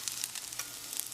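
Chopped carrots and celery sautéing in sesame oil in a pan, giving a steady close sizzle with small crackling pops scattered through it and no voices.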